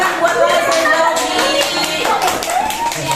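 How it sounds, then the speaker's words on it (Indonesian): Children and parents at a preschool clap together for a visiting guest, a dense, steady patter of many hands close by, with a few voices mixed into the applause. "Tepuk tangan buat Lause Zobi."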